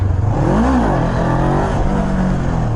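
A Honda CB500F engine revs hard and fairly close during a wheelie attempt, the pitch climbing and dipping in a sustained strained whine with no talking.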